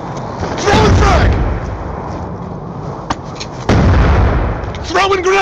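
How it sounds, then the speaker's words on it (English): A frag grenade explodes with a heavy boom amid gunfire in a first-person shooter, loud blasts landing around one and four seconds, with soldiers' shouted voices and radio chatter mixed in. "Throwing frag!"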